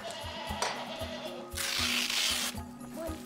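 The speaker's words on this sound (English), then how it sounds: "Sheep, sheep, sheep." Sheep bleat in a farm pen at a sanctuary for injured animals, several calls overlapping in a steady, close group with a rougher rubbing noise partway through; no talking.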